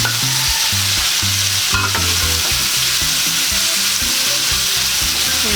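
Carrots for fish escabeche frying in a hot pan, a loud continuous sizzle with repeated scraping and stirring strokes of a utensil against the pan throughout.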